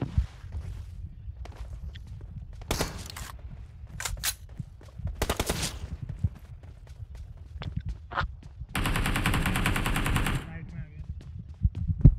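AKM rifle fire in the BGMI mobile battle royale game comes in rapid automatic bursts and single cracks, with one longer sustained burst, amid in-game footsteps and movement.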